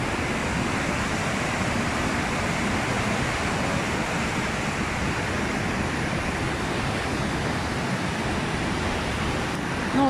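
A waterfall rushes through the town centre of Bad Gastein, Austria, beside the Kaiser Wilhelm Promenade. Its steady, loud roar of falling water stays unbroken from start to finish, with no voices.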